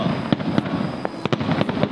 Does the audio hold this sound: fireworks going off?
yes